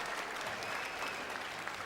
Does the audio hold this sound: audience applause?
yes